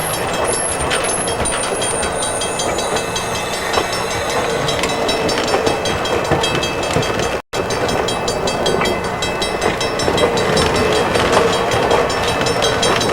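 A passenger train on the Halifax to Truro run rumbles past in a steady, loud broadband roar with faint clickety-clack, continuous throughout apart from one brief dropout near the middle.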